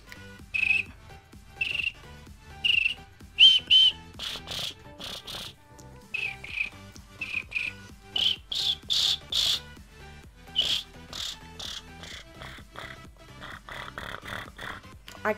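A voice imitates a cricket with bursts of high, buzzy chirps over a low growling undertone, in uneven rhythmic clusters.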